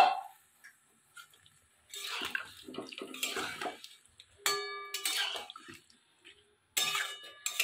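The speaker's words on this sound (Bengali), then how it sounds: "আমি এবারে যে সবজিগুলো সেদ্ধ করে রেখেছিলাম, শিম, আলু, ডাঁটা, আমি এগুলো দিয়ে দিলাম" Boiled beans, potato and drumstick pieces are tipped into a pan of cooked spice mix for a neem curry, giving quiet, intermittent clatter and wet sloshing with short silent gaps between bursts.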